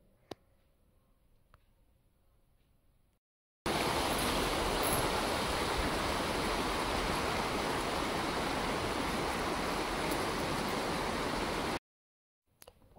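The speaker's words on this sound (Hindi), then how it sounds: "बस नदी के बहने का शोर सुनाई दे रहा था।" The Sindhu (Indus) river at Sonmarg, Kashmir, rushing with a steady, loud, dense roar of flowing water that holds constant for several seconds, set between quieter stretches of ambient outdoor sound.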